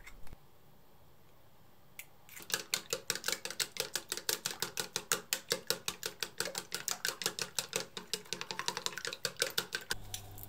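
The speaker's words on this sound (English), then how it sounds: "Beat 2 eggs." Rapid, steady clicking of a whisk or fork beating two eggs in a bowl, dozens of quick regular strokes after a brief quiet start, close and distinct.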